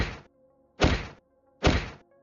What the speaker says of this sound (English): It was your father, booming his legs on the ground to wake up the mob.